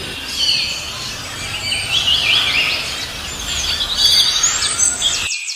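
Birds sing and chirp in the Thattekad forest of India's Western Ghats, several high, quick calls and trills overlapping above a soft forest hum, fairly close and clear, ending abruptly.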